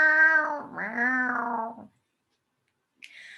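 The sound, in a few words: cat meowing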